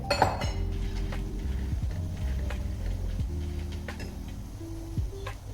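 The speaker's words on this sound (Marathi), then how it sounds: "हे मी डालवा टाकते हे बघा हा दालवा टाकते" Roasted chana dal pours into a pan of oil for Diwali chivda, scattering rattling clinks and light ticking over a steady low sizzle and hum, close and continuous, without speech.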